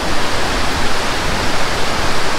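Broad, steady rush of falling water at the wide, low second falls of Lake Sebu in South Cotabato, a dense, even roar heard close and alone without voices.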